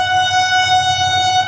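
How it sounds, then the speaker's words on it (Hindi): An express passenger train passes on the up line of a railway in India, a loud, steady rumble of wheels under a sustained tonal horn for the whole stretch, close by. "अप साइड पर आ रही है 47 अप रहमान बाबा एक्सप्रेस"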